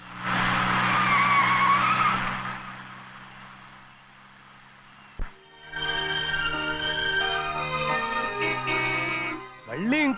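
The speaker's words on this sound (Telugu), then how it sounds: "మళ్ళీ ఇంకో కారా?" A car pulls in with its tires skidding, giving a loud, drawn-out screech over engine roar, then a sharp thump, followed by a busier burst of engine and tire noise near the end.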